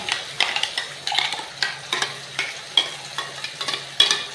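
A rhythmic series of scraping stirs, roughly two per second, sounds over a soft sizzle of spice paste frying with browned onions in hot oil in a pan.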